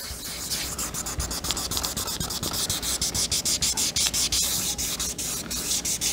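Steady rhythmic scratchy rubbing of sandpaper by hand on a painted motorcycle tank, repeated back-and-forth strokes, close and continuous with no talking.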